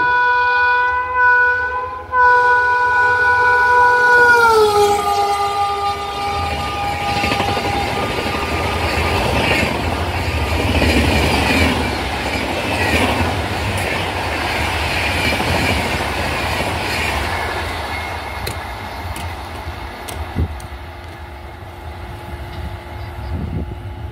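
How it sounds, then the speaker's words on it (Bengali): Howrah–Bolpur Shantiniketan Express racing through a station at 130 km/h: a loud horn with a falling pitch as it nears, then a long roaring rush of wheels and carriages that slowly fades. "এটা হলো আপ শান্তিনিকেতন এক্সপ্রেস বন্ধুরা, হাওড়া শান্তিনিকেতন, বোলপুর শান্তিনিকেতন এক্সপ্রেস গেল ফ্ল্যাট 130 কিলোমিটার/আওয়ার স্পিড দিয়ে"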